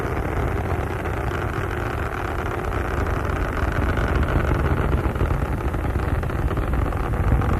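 Space Shuttle Columbia's engines during launch and ascent make a loud, continuous broadband roar that holds steady and rumbles deep throughout, with no voices over it.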